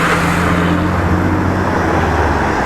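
Extra MSRTC state transport buses setting off in Mumbai road traffic, a loud continuous engine and road roar with a steady low hum, no talk.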